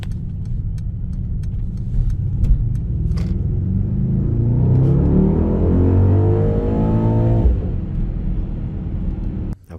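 A Mercedes-Benz GLS 63 AMG 4MATIC engine in sport mode rumbles loudly close by, its pitch climbing steadily as it revs up, then cutting off abruptly before a brief click.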